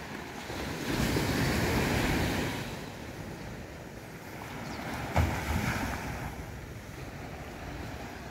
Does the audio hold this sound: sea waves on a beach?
yes